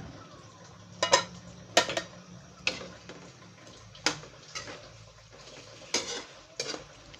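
Spicy chicken kaldereta stirred in a cooking pot: a utensil scrapes and clatters against the metal in about eight sharp, close knocks at irregular intervals, over a low, quiet background hum.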